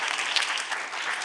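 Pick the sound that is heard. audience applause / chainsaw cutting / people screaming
audience applause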